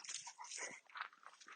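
A puppy whimpers and whines in short, high, breathy bursts, close but faint, heard outdoors before a walk, with no talk.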